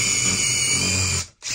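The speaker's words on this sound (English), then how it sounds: "we're going to press on really hard and see if we can get the sort of the hammer action working" A hammer drill drives a masonry impact bit into tough concrete, a steady loud high-pitched whine and grinding buzz that cuts out briefly near the end, then resumes.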